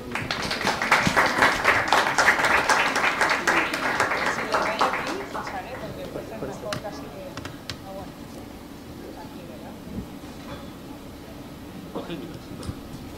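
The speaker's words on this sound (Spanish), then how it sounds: "Un aplauso." An audience at a talk on myths and misconceptions about destructive cults applauds loudly for several seconds, then the clapping fades into scattered claps and room noise.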